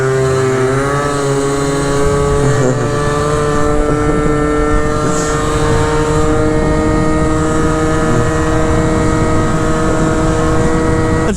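Small scooter fitted with a carburetor setup, run at full throttle while racing, its engine buzzing high and steady, rising in pitch early on, then holding a continuous loud drone close by, with no talking.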